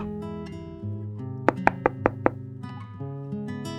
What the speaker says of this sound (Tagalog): Kumatok ako.